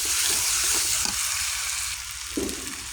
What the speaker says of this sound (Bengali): আমি গোশতটা কিছুক্ষণ তেলে নাড়াচাড়া দিয়ে নিয়েছিলাম